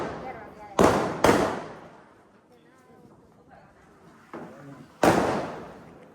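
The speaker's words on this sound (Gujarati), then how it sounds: "આ તો બહુ અવાજવાળા ફોડે છોકરાઓ" Loud firecrackers bursting during Diwali celebrations, with three sharp blasts close together early on and another strong bang later, followed by fainter pops amid background chatter and voices.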